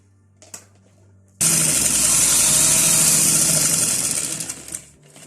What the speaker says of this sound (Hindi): अब हम इसी तरह एंड तक सिलाई लगा लेंगे।